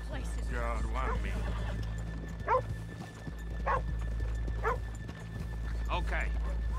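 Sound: horses moving, from the video game Red Dead Redemption 2

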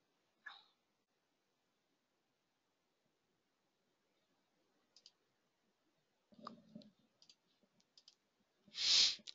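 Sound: computer mouse clicking

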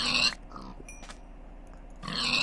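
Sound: pig grunts in Minecraft video game

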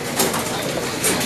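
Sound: racing pigeons arriving at loft

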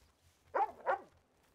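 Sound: dog barking in video game RedM

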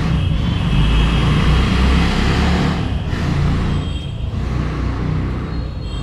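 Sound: loud exhaust revving on the road outside

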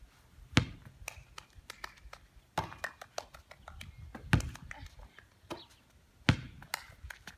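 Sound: hand claps while a ball is in the air

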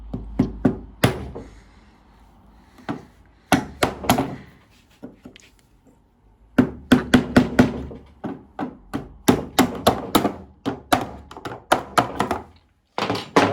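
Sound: tapping window glass bead with wooden block

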